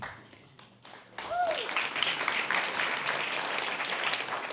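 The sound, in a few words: audience applause at guide dog graduation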